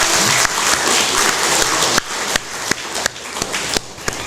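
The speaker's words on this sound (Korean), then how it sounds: "우리 박수로 영광 돌립시다" A church congregation gives a short burst of applause that quickly thins into a few scattered, loud individual claps before stopping.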